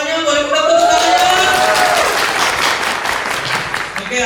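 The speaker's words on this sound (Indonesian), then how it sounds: "Boleh minta tepuk tangannya?" An audience applauds at an MC's event, a dense, loud burst of clapping and cheering that fills the whole few seconds, with voices mixed into the crowd noise.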